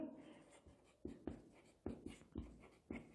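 Chalk or marker strokes on a board during a chemistry lecture on ionic solids, a series of short scratchy taps and scrapes in uneven bursts, fairly faint, with no talking.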